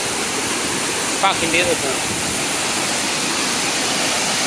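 Steady broadband rush of a waterfall in Brecon Beacons National Park, Wales, filling the whole clip at close range, with a brief spoken exclamation partway through.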